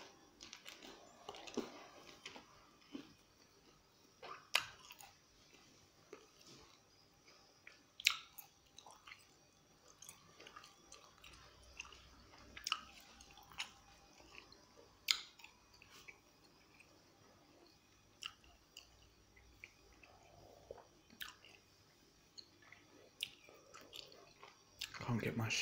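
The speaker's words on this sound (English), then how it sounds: "I've got some gum as well to go with it." Extra Cool Breeze chewing gum being chewed close to the mic: soft, wet, squishy mouth clicks and smacks in an irregular rhythm, quiet and intimate, with occasional sharper snaps.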